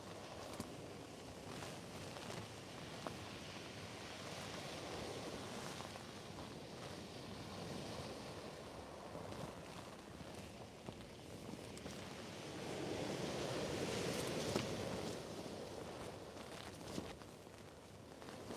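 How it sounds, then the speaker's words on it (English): Wind of around 30 mph with stronger gusts buffets the microphone at the UK seashore during sea fishing for bass and hounds, with a steady roar of surf that swells louder toward the end. "We've got 30-mile-an-hour winds with like 40-mile-an-hour gusts"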